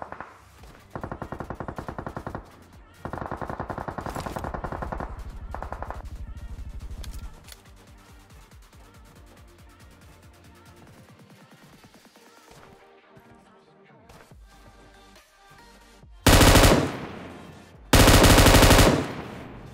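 An M249 machine gun fires in PUBG Mobile, with long loud sustained bursts, a stretch of quieter rapid shots further off, then two short, very loud close bursts near the end.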